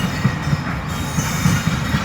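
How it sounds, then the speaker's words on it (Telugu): Loud rumbling of a passing freight train, with rhythmic low clacking of wheels over the rails, close by and continuous. "ట్రైన్ చూడండి కరెక్ట్ మా చుట్టూ ట్రైన్ వచ్చింది"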